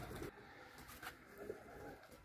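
Flying pigeons of a trained flock coo softly in repeated low calls, a few brief brighter chirps and wing flutters scattered over a faint, steady outdoor background.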